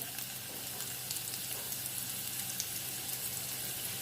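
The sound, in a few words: garlic and ginger frying in a pan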